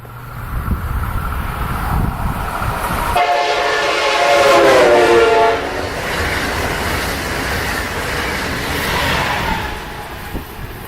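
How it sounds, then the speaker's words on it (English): A train passes close by, its horn sounding with a clear Doppler drop in pitch from high to low amid loud rumbling rail noise, then fading. "When the train was approaching, it had a high pitch, and as it passed us, the pitch changed from high to low."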